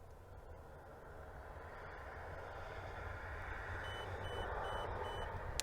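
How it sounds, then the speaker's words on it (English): Signstek YL-99 electronic door knob sounding four short, evenly spaced high-pitched electronic beeps during a reset, faint over a steady background hum. "So there's your 4 beeps."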